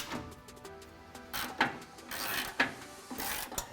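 Nuts and bolts on a Ford F150 EcoBoost cross member being tightened, with scattered mechanical clicks and a few sharper ratcheting bursts, close and fairly quiet.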